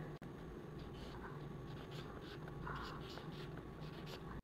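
Pen or pencil writing on paper during a Hindi lesson for young schoolchildren, a faint scratchy stroking with short bursts, heard quietly close up under low background hiss.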